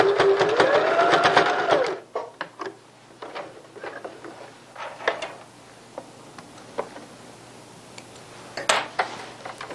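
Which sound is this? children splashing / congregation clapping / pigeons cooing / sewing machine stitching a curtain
sewing machine stitching a curtain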